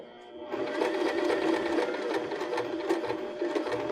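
A sewing machine stitches pom-pom trim across a join on a cork fabric pillow, a steady, close motor whir that runs unbroken for several seconds with no talking.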